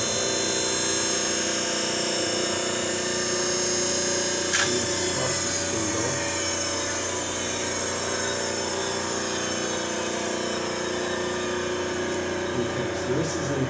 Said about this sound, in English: Start my phase converter running the other direction. Let's try it. Spindle start.